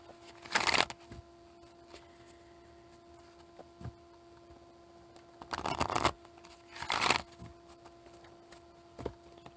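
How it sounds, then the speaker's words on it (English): Someone shuffles a tarot card deck in three short, quiet bursts: one early, then two close together near the end. Faint hum and near silence fill the gaps between them, and no one talks. "Making sure we got a good shuffle on this deck"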